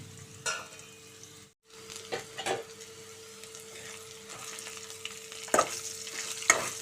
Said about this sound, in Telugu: దొండకాయ ఫ్రై అవుతుంది వేగుతుంది